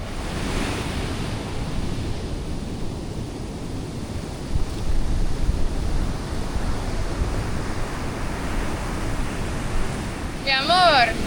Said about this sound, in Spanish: Pero hay muchas olas, ¿eh?